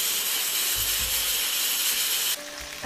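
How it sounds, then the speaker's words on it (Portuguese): A pressure cooker cooking cassava lets out a steady, fairly faint steam hiss that runs throughout, with a few light clicks and knocks near the end. "Esse barulho que vocês estão escutando é a minha panela de pressão que está aqui ao lado com uma macaxeira"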